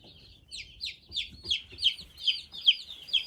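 A crowded brooder of more than 80 young chicks peeps rapidly in a steady rhythmic series of high calls, with soft low clucking and rustling beneath, fairly close.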